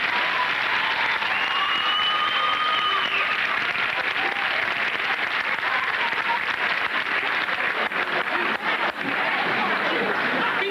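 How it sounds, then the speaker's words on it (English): A long round of audience applause for Attorney Todd at a Black History Month event, a dense, steady roar of clapping that holds loud throughout, with scattered voices and a chuckle beneath it. "Let's give Attorney Todd another round of applause."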